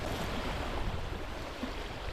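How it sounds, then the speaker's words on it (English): Waves of the Arctic Ocean wash continuously against the shore, a broad, steady roar with wind noise on the microphone and no voices. "This is it, the Arctic Ocean."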